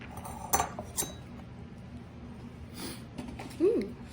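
Glass dishes and metal cutlery clink a few times in a kitchen while sundae treats are assembled, short sharp chinks over a low background hum, with voices faintly present.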